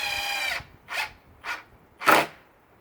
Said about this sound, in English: When you do this, you want to use an impact driver, not a drill.